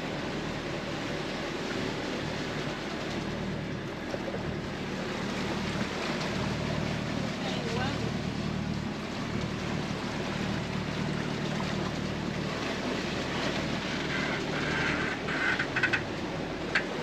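A boat engine idles at low throttle on the water, giving a steady, continuous low drone with a wash of water and wind noise throughout and no talking.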